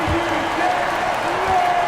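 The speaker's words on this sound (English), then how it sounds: "Please give a big round of applause for your Raptors." Steady crowd applause in the NBA 2K23 basketball game, Spurs vs Raptors, fills the space, a broad wash of clapping with an announcer-like voice faintly threaded through it.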